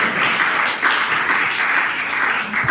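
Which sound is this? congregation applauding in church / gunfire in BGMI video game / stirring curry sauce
congregation applauding in church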